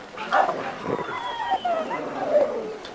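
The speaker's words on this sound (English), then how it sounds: "This is our Thunder dog." A Thunder dog, a male littermate in a kennel yard, gives a few short barks and yips between bursts of background noise, fairly close, with no talk over it.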